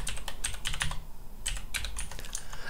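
Quick bursts of keystrokes on a computer keyboard as a new password is entered while changing a Windows 10 password, close and clear with brief pauses between runs of keys.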